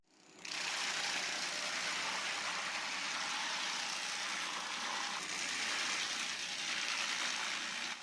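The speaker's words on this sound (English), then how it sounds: "the stump grinder tears into the old tree base" A stump grinder chews into an old tree base, its spinning cutter disc producing a loud, sustained high-pitched grinding whine that starts abruptly and holds steady with slight surges.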